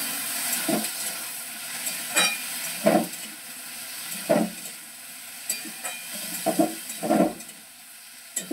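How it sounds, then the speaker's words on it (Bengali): A hot cooking pan hisses steadily after water is poured in, with a soft continuous sizzle broken by intermittent stirring scrapes up close. "জল দিয়ে দিলাম"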